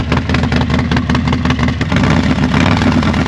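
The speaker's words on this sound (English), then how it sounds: "now listen to Eric's bike" A Harley-Davidson motorcycle engine runs loud and close, with a deep, throbbing low rumble that pulses unevenly and swells slightly toward the end.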